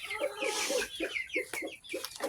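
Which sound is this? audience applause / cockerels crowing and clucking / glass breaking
cockerels crowing and clucking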